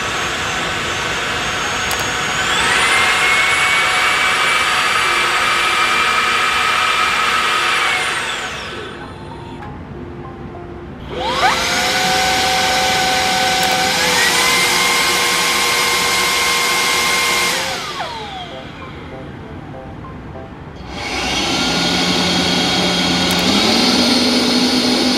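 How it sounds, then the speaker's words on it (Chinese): Three vacuum-mop two-in-one vacuum cleaners run one after another, each a loud steady whining motor roar lasting several seconds, with short quiet gaps between them. "而家就 check 下呢三部吸塵機佢哋發出的分貝啦"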